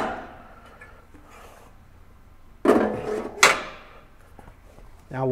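A take-up reel bracket slides along the crossbar of an Epson SureColor F6370 dye-sublimation printer stand, making two short, close scraping clunks with light rattling around them and faint room noise in between.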